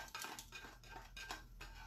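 Fideo pasta is moved from a small pan into a bigger pot, giving faint scraping, clinking and stirring sounds of utensil against cookware, quiet and without speech.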